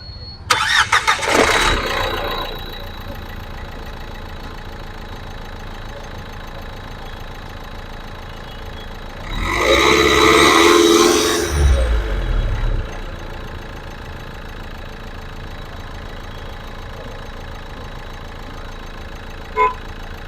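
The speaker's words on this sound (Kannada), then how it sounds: "ನಿಮಗೆ ಇಂಜಿನ್ ಸ್ಟಾರ್ಟ್ ಮಾಡಿನೂ ಕೂಡ ತೋರಿಸ್ತೀನಿ ಇವಾಗ." A 2013 Renault Duster with the 110 PS diesel engine cranks and fires at about nine seconds, revs up loudly for a few seconds, then drops back to a steady low idle. An earlier brief burst of noise comes before the start.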